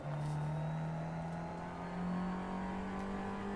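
Open-wheel race car in a racing video game at a Detroit Belle Isle time attack, engine droning steadily and climbing in pitch as it shifts up through the gears, loud and continuous with no talk.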